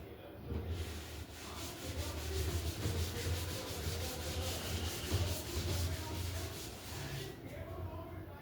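Writing on a classroom board is rubbed out in a steady scrubbing sweep that runs for several seconds, close and fairly quiet, with no one speaking over it.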